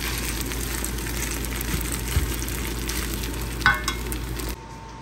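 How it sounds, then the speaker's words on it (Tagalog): Fried rice made from leftover cooked rice sizzles steadily in a pan, a dense crackling hiss with stirring scrapes that cuts out abruptly near the end. "Luto tayo ngayon ng fried rice kasi marami akong lumang kanin."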